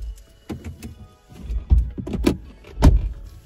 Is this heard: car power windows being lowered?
yes